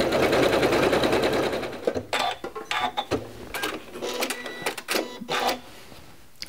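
A sewing machine stitches decorative patterns on fabric, running in a loud continuous whir at first, then in short, uneven bursts of rapid needle clatter with brief pauses.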